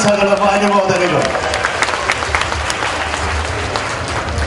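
Crowd at a Knanaya community gathering applauding and cheering, a dense continuous wash of clapping that fills the whole stretch, loud and close, with a voice heard briefly over the start.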